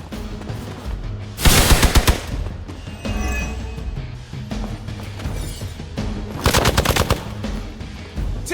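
Video game gunfire from Marvel's Midnight Suns, with two loud bursts of rapid automatic shots separated by quieter mechanical clanks and game effects, heard without speech.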